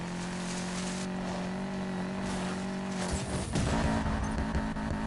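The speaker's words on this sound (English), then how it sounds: "Pretty much enjoying the off-road vehicle." A steady, droning off-road vehicle engine in Need for Speed Payback holds one even tone throughout, with a slight rise and roughening near the end and no speech.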